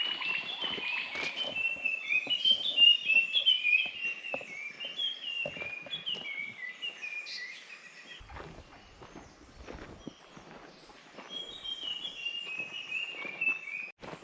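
High, repeated chattering calls of a Malabar giant squirrel ring out over rustling and scattered ticks in a hilltop forest at Manombolly, Tamil Nadu.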